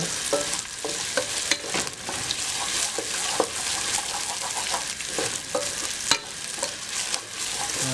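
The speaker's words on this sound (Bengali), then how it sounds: "এখন দুটি তেজপাতা আমরা একটু ছিঁড়ে এই গরম তেলে ভেজে নেব" Torn bay leaves fry in hot oil for bhuna khichuri, a close, steady sizzle broken by repeated stirring clinks and scrapes of a spoon against the pan.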